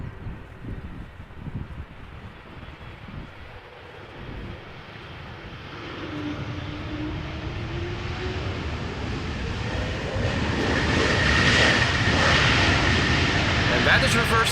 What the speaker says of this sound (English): And that is reverse thrust being applied.